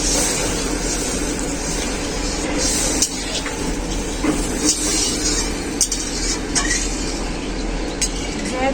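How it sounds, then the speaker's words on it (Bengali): Water poured into a pan of fried fish masala, a steady dense sizzle and hiss running throughout, with occasional clinks of a utensil against the pan. "এখন আমি জল দিয়ে দেবো।"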